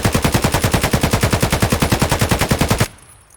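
Sustained full-auto fire from an AK-103 7.62 rifle in the shooter game Escape from Tarkov, a rapid, evenly spaced burst of loud close shots lasting nearly three seconds before cutting off abruptly into quiet.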